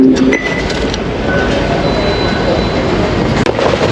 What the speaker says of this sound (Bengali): ট্রেনটা এসে থামবে ওইখান থেকে উঠতে হবে